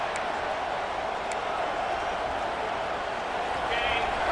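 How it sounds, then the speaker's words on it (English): Stadium crowd noise in the EA College Football 26 video game, a dense, continuous roar of a fired-up crowd with no distinct breaks, steady and fairly loud. "It's early, but this crowd is fired up. Listen to this noise here."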